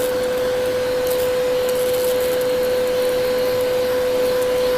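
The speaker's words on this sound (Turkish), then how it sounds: "power düğmesine basarak suyumu atmaya başlıyorum şu düğmeye basıyorum arkadaşlar ve suyumu atıyorum" An upholstery cleaning machine, a Kiwi KCC 4325, sprays water onto a sofa with a loud, steady motor whine and hiss that stays constant and close throughout.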